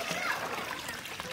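Water pours and splashes steadily into a pan of cauliflower and egg curry, a continuous close sloshing that runs under a person talking.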